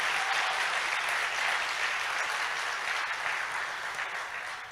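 Sustained audience applause at a summit closing ceremony, honoring the venue volunteers, dense clapping from a crowd that holds steady and slowly fades toward the end.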